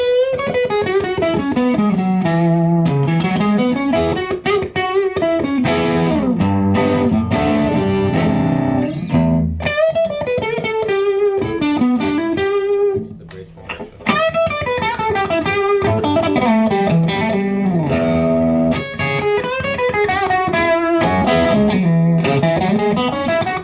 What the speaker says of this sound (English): And then distortion mode is even higher gain